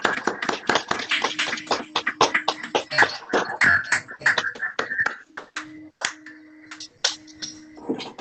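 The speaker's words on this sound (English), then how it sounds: "I now ask that you join me in a round of applause to thank Mr. Simpkins for his many years of dedicated service" Council members on a 2021 remote meeting clap and tap in scattered, uneven bursts, sharp separate hits rather than a blended roar, with a steady hum in the background.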